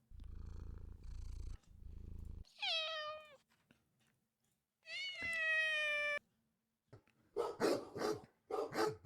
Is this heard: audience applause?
no